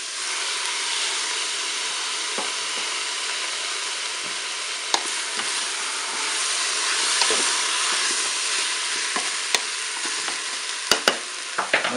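Spaghetti being stirred into a Cookeo multicooker pot, with a steady broad sizzling hiss throughout, a few soft scraping strokes and, toward the end, several brief sharp clicks and knocks from utensil against the pot.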